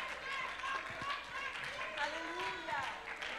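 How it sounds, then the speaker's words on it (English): A worship congregation claps hands together in a steady, dense patter, with voices singing and calling out over the clapping throughout. "Let's give God a hand clap of victory"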